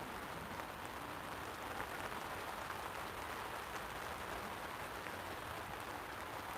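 Rain falls outdoors at a carp fishing spot, a fine, even crackling hiss like bacon frying, steady and fairly quiet with no other sounds standing out.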